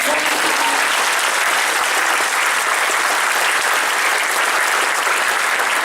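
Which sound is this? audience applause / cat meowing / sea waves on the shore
audience applause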